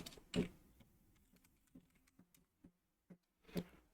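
A few sparse, soft keystrokes on a computer keyboard while entering a short command, with faint isolated clicks and two slightly louder taps at the start and end.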